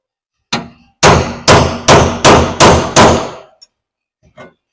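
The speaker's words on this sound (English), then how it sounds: "We're going to center punch where we want that." Six sharp metallic hammer strikes in a steady rhythm ring out loud and close, as a center punch is struck into metal for a bracket on a 1983 Chevy Blazer, followed by a couple of faint taps.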